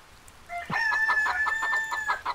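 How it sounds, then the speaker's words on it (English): Chickens in the farming video game Harvest Moon: Save the Homeland, a short synthesized rooster-like crow followed by rapid rhythmic clucking bursts, clear and close. "Too many chickens!"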